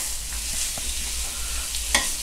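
Pork ribs stir-fry in a hot pan, partly cooked before braising in a red sauce, with a steady close sizzle and a few scraping stirs, with no talking.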